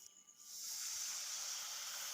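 A splash of water hits spices frying in a pan for egg curry, sending up a sudden, steady hiss that rises within half a second and carries on close and continuous, with no voices.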